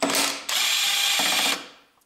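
A ratchet spins off a bolt from the hybrid converter of a 2002–2009 Toyota Prius with a 1.5 engine, a close, steady mechanical whirr lasting about a second and a half before it fades out.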